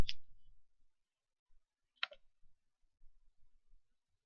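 Two sharp, quiet mouse clicks about two seconds apart while a computer is being set up with Windows 8, separated by near silence and faint low rumble.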